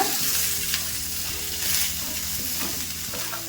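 Grated coconut stirred and heated in a pan with fried onions for sambar, a steady close sizzle with scraping stirs running throughout, no voices.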